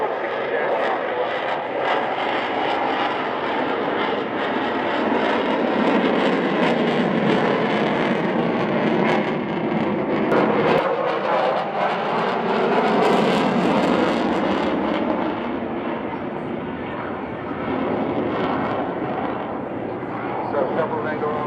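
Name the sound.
Eurofighter Typhoon jet powering up into full reheat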